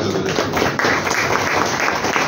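An audience claps steadily through a brief burst of applause at a Marathi book launch ceremony, dense and fairly close.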